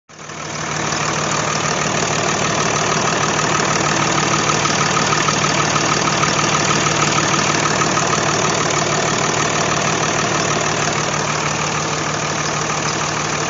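A Dodge diesel pickup engine cranks and fires, then settles into a loud, steady clattering idle that runs unchanged for over ten seconds, close by with no talking.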